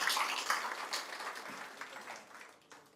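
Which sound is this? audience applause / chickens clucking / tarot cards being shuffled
audience applause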